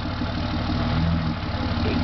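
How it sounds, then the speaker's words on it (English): A car engine idling steadily at a campsite, a continuous low rumble that holds even and fairly loud throughout with no voices over it. "sound of an engine"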